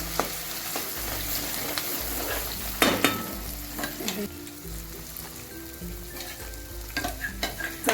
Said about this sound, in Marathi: चांगला आपल्याला परतून घ्यायचा मसाला।